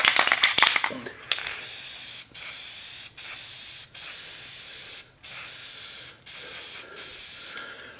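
White paint sprays from an almost empty aerosol can in a series of steady hissing bursts, each a second or so long, separated by short pauses.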